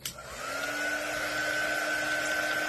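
A hair dryer switches on and runs with a steady, close, high-pitched whirring blow while drying paint on a mason jar door hanger.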